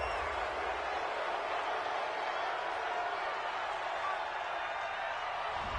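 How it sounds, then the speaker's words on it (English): Sustained, fairly distant roar of disapproval from the crowd at a Bengals versus Cowboys NFL game reacting to a penalty call, even and unbroken for several seconds. "Well, this crowd does not like that call."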